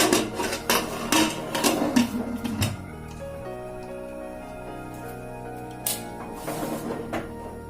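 A lid is set on a pot of masoor dal on the stove, with a flurry of metallic clanks and knocks at first, then ringing, fading tones and a couple of lighter clinks later, close and alone.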